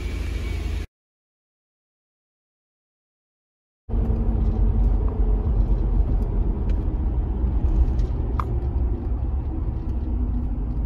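After nearly three seconds of silence, a Nissan Pathfinder's engine settles into a steady low idle rumble with faint occasional clicks, close and continuous to the end.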